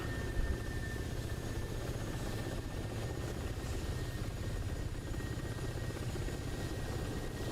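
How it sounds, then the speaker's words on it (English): Mi-24 helicopters fly at a distance in a video game, a steady, even rotor drone that stays constant and fairly faint with no other sounds over it. "See both Mi-24s off in the distance flying around."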